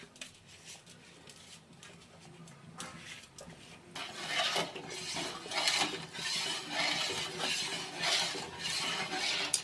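A spoon stirs rice in a pot of boiling water for chicken dum biryani at home, a steady close scraping and rasping that grows louder and busier partway through, with no talking.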